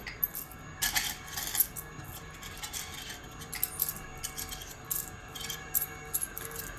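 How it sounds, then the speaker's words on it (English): A Cashdro cash recycling machine returns coins, producing a busy stream of metallic clinks and jingles as coins drop and rattle against each other, fairly close and continuous. "the system has returned all the coins that are not local currencies"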